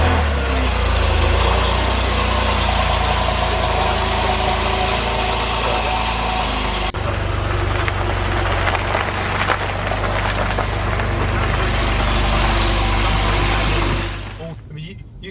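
A Porsche 911 Carrera 2 (991) engine idles with a steady low rumble heard from inside the car, a slight shift partway through, before cutting off near the end; speech tagged but no clear talking.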